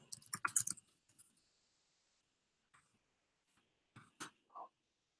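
Keys on a computer keyboard click in short, sparse bursts, a quick flurry at the start, then a long pause before a few more taps, faint and close with no voices.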